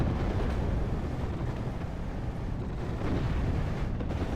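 Mortar fire and explosions from mortar half-tracks and field guns in a World War II strategy video game, a continuous rumbling wash of distant blasts and battle noise with no talk.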